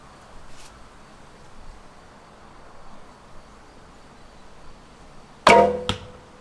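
An arrow shot from a longbow strikes the target with a sharp, loud thud near the end, followed by a brief second impact, after several seconds of quiet outdoor ambience.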